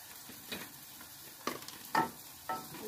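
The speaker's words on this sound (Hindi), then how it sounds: "चिकन अच्छे तरीके नाल फ्राई हो गया हूँ" Chicken frying in a pan with onion, tomato, green chilli and garlic, soft sizzling under several distinct stirring scrapes spaced about half a second apart, quiet and close with no talking.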